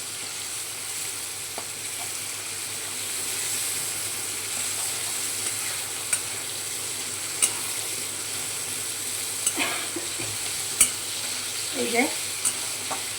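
Onion, tomato and chopped green chilli frying in a pan for paneer chatpati, a steady soft sizzle with scattered clicks and scrapes of stirring, and a brief voice near the end.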